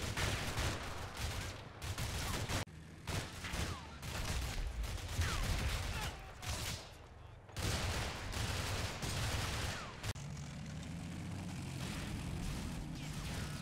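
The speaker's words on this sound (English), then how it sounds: "A firefight erupts and grenades are tossed and casualties are taken and" Bursts of rifle fire, machine-gun rattles and grenade blasts in a Combat Mission Cold War firefight at a radio site, dense volleys with brief lulls, heard fairly faint, mixed with a low rumble.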